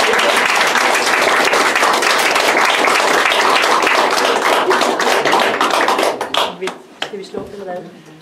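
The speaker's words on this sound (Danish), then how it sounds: "jeg vil godt klappe for os" A small group claps together in a room, with dense, continuous applause that thins into a few scattered claps and fades after about six seconds.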